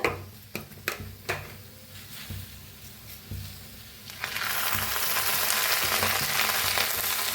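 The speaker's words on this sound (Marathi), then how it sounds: "तर बघा मस्त अशी छान भेंडी भाजायला लागली" Okra frying in oil with green chili and garlic in a pan, a few sharp utensil taps over a low sizzle that rises into a loud, steady hiss as more oil goes in.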